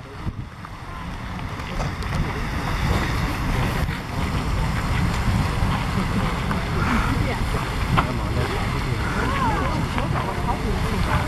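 Riverside Geyser erupts outdoors in shifting wind, producing a steady roaring rush of water mixed with gusty wind noise on the microphone and faint voices nearby.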